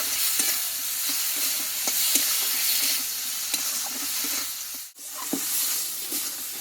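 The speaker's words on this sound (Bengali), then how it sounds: "এই মশলাটা আমি ভালোভাবে একটু কষিয়ে নেবো" Tomato and spice masala with turmeric and salt being stir-fried in a pan for a soyabean and pointed gourd dish: a steady sizzle with repeated spatula scrapes, one brief pause midway.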